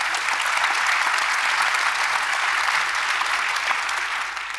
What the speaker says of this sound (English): Can I please ask you for one more applause for our guests?